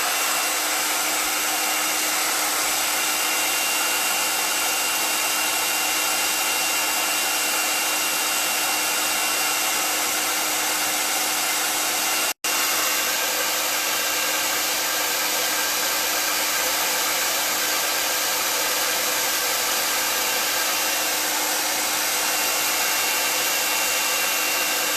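A hair dryer runs loud and steady for the full stretch, drying chalk-stencil ink, with a single sharp click at the midpoint and no voices.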